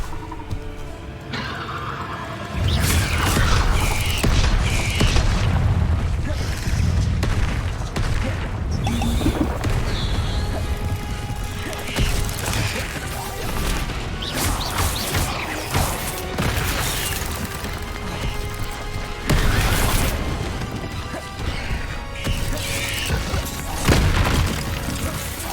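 Fiery Confringo spell blasts in Hogwarts Legacy, repeated loud booms and crashing impacts in quick succession amid a dense, continuous battle din.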